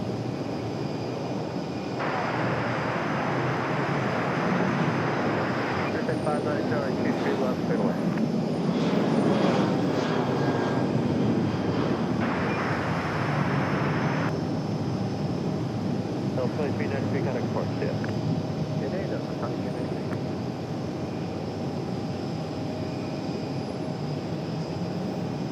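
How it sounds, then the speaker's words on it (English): A Delta Boeing 737 jet departing RDU airport, a steady broad engine roar that swells and holds throughout, with voices talking over it. "Got a Delta 73 for departure back to Atlanta."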